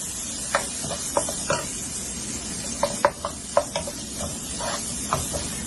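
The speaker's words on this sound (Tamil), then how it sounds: "ஸ்லோ ஃபிளேம்ல வச்சு பொறுமையா சோட்டே பண்ணுங்க" Thinly sliced onions sautéing over a slow flame for chicken ghee roast gravy, a soft continuous sizzle broken by repeated stirring clinks and scrapes of the spatula against the pan, close and without talk.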